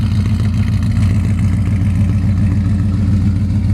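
A car engine with its muffler removed runs loud and throaty, a steady rumbling exhaust with slight pulsing revs, close and alone with no talk.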